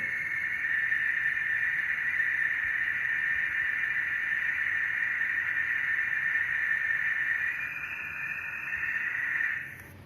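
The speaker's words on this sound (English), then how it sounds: "What you heard now is a real sound" A steady, eerie high-pitched whine over a faint hiss, recorded from deep space, holding one tone for about ten seconds before fading slightly at the end; no voices.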